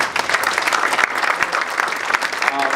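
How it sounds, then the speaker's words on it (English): Attendees at a town hall on the Flint water crisis, held in a senior center in Royal Oak, Michigan, give a round of applause. The clapping is dense, loud and steady throughout. "I think we should all give a round of applause."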